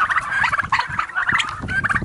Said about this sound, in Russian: Вот это индюк однозначно.